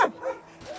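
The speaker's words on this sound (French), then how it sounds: "C'est des chiens qu'ils ont foutus dans des cages, au milieu de la merde" A caged dog at a Korean dog meat farm gives one short, close bark, then a faint whimpering yip follows.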